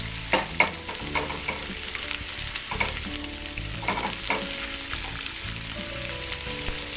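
Onions sizzle steadily in a frying pan while being sautéed for a Filipino green bean and beef dish. A utensil scrapes and clinks against the pan at irregular intervals, close up, with no talk.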